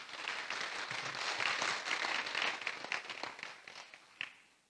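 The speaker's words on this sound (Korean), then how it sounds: "서로를 사랑하는 마음으로 격려의 박수 한번 할까요?" A church congregation claps together in encouragement after worship, a dense, steady wash of many hands that swells, holds, then thins out with a few final claps near the end.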